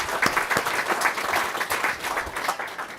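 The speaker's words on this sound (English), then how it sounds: "So a round of applause again, everybody, for Shireen." Moderately loud audience clapping at a lecture, a brisk round of applause with distinct individual claps standing out through the steady patter, lasting a few seconds.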